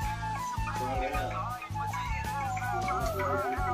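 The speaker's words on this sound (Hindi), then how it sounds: "मुर्गी धरने का कंपटीशन चल रहा है। ये देखिए मुर्गी धर रही है" Chickens cluck and squawk during a chicken-catching competition, a lively mix of near and far clucks over a dense crowd murmur, with people talking and loud festive music filling the background.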